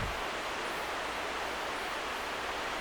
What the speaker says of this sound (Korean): 계곡은 보이지 않고 깊은 물소리만 들린다.